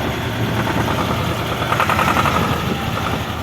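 An old tractor with its original paint sits idling, the engine giving a steady, even rumble up close with no talk.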